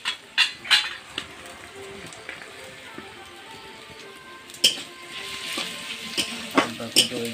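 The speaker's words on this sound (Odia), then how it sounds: "ଅଦାକୁ ଟିକେ ଭଲ ଘାଣ୍ଟିଦେବା।" Ginger tossed onto softened onions sizzles steadily in a pan for an Odia chicken curry, with a spoon stirring and scraping in sharp, irregular clinks and clatters close by.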